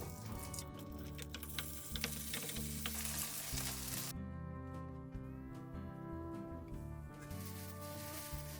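Egg-batter vegetable pancake frying in an oiled pan, a continuous close crackling sizzle with a few soft ticks and pops throughout.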